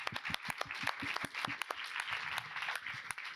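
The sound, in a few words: conference audience applause for guests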